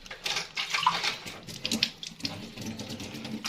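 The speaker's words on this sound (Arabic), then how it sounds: "هنحط ايه حبه ميه كده اهو" Water splashes and trickles briefly nearby, a short pour with some clinking, fairly faint, as a little water is added while preparing stuffed chicken.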